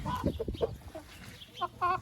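Hens cluck in short, close bursts while pecking at fresh grass given to them, a handful of soft calls with brief pauses between.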